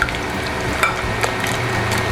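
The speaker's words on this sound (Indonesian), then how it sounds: "Kemudian akan kita aduk-aduk." Warming milk with sugar, salt and vanilla for bread and butter pudding is stirred in a pan, giving a close, steady simmering sizzle with a few light scrapes and taps of the utensil.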